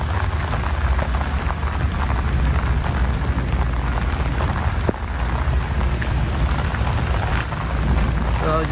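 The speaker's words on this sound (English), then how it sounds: "Got a fairly decent rain going right now." A continuous monsoon downpour roars evenly throughout at an outdoor civic center mall, a thick wash of rain close by with a single sharp tap midway and a low background rumble.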